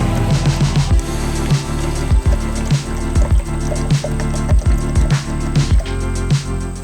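Coolant concentrate and distilled water glugging into a Mercedes-Benz coolant reservoir, loud and close, with repeated gurgling bursts about every half second as the bottle vents, no talking.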